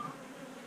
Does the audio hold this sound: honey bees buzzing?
yes